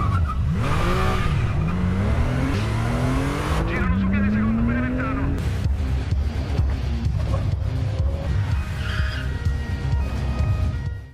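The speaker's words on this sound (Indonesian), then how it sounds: "Riva melewati jalan pintas lalu menemukan mobil si pelaku dan terjadilah aksi kejar-kejaran" Cars in an action-film chase roar and rev loudly while tires squeal repeatedly, with skidding and crashes mixed under music and dialogue throughout.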